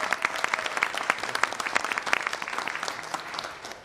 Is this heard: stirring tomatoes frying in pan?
no